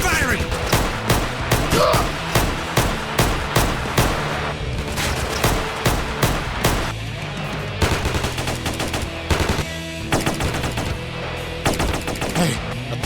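Rapid bursts of automatic gunfire from GTA San Andreas machinima, dense and loud, firing almost continuously with brief gaps, mixed with music and shouted voices.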